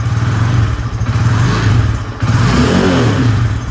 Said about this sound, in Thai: เดี๋ยวลองเบิ้ลกันสักหน่อยนึงนะครับ เห็นไหมคันเร่งนะครับบิดติดมือปกติเลยนะครับ